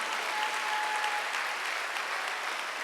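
Church congregation at a Wednesday worship service breaking into sustained, dense applause that fills the room steadily from start to finish.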